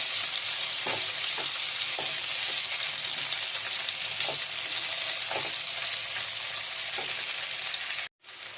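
Potatoes frying in hot oil in a pan with tempering spices, giving a steady close crackling sizzle throughout with a few soft stirring knocks, ending in a brief cutoff.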